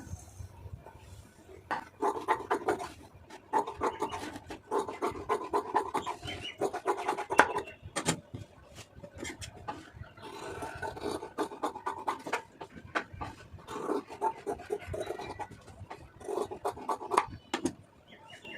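Scissors cutting through blouse fabric on a table, a series of close, quiet rasping snips and rubbing strokes repeating in bursts with brief pauses between.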